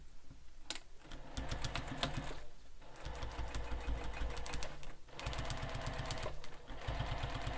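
A sewing machine stitches across a backpack seam in quick, rapid bursts that break off briefly and start again, with a mechanical hum under the needle's rattle and no voices.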